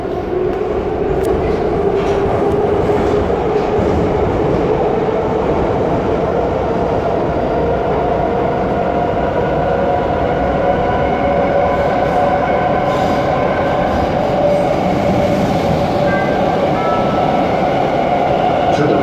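Warsaw Metro series 81-717.3 train on Line M1 running between stations, a steady loud rumble of motor and wheels with faint rail clatter throughout, heard from inside the car.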